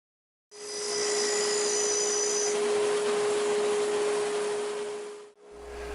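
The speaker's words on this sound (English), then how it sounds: "I can always take it down to the line on the oscillating spindle sander later." An oscillating spindle sander runs with a steady, loud motor whine and rough grinding hiss as it sands an inside curve of a wooden clock part. The sound cuts out briefly near the end, then resumes.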